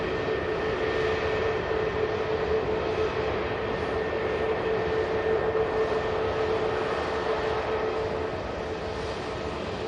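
A TUI Boeing 737 takes off at Manchester Airport, its jet engines giving a sustained, steady roar that holds strong and loud for the whole stretch, with no talking.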